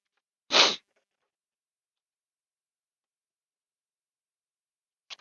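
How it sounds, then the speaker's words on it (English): A single sharp human sneeze bursts out close and loud near the start, followed by near silence with only a faint brief rustle at the very end. "I sneezed again, which means my nose is going to run a while."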